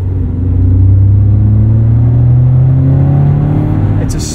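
Subaru BRZ with a catted UEL header exhaust, heard as a steady, deep, smooth engine drone that swells gently as the car rolls past, with a low rumble throughout.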